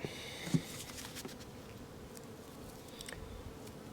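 Bees in a beehive give off a faint, continuous, low buzzing hum, with a soft knock near the start and no voices.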